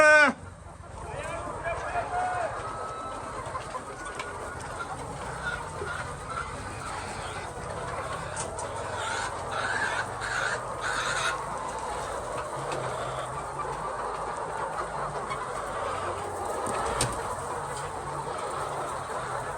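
Chickens kept for eggs on a poultry farm cluck together in a steady, busy chorus that lasts throughout, close by, with a human voice heard faintly at moments.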